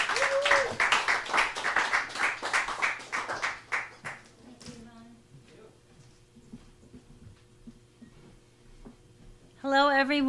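An audience at a poetry book launch in Los Angeles applauds a poet with dense, loud clapping for about four seconds that tapers off into quiet shuffling and a voice speaking.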